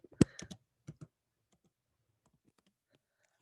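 Brief computer keyboard typing, a quick cluster of clicks at the start, then a couple of softer taps and faint scattered clicks in an otherwise quiet room.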